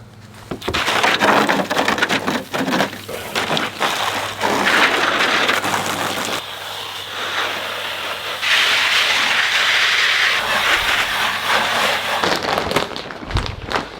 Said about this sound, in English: We're gonna give them a good rinse.